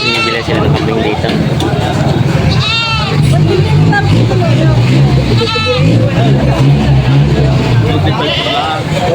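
Goats bleat in a few short calls over a busy livestock market in Padre Garcia, Batangas, with loud crowd chatter and people talking throughout.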